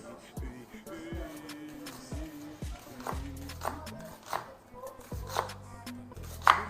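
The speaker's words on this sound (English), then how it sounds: "So I'm going to slice these onions." Onions being sliced with a knife for grinding in an earthenware vessel, giving a run of sharp, evenly spaced cuts against a board, close and fairly loud, with quieter stretches of background talk between strokes.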